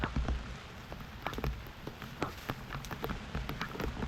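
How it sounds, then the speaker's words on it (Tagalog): Rain falling in bursts beside rice paddies: close, irregular drops tapping a surface, with sharp individual hits scattered across a soft, steady patter. "Bugso-bugso po ang ulan."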